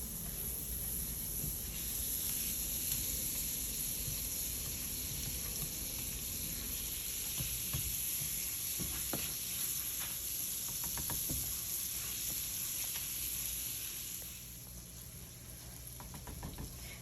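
About four tablespoons of butter sizzle steadily in a frying pan, a continuous close hiss with occasional crackles, settling slightly quieter toward the end.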